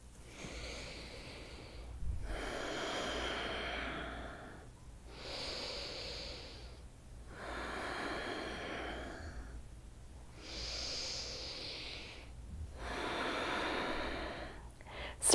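Deep, slow breaths during an evening yoga flow, about four long inhale-exhale cycles drawn audibly through the nose and mouth, close and steady with quiet pauses between and no talking.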